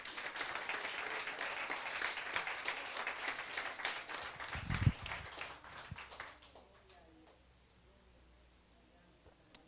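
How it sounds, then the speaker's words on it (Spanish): A church congregation applauds, a dense patter of many hands clapping that gradually fades out to quiet by the end. "Dele un aplauso al Señor."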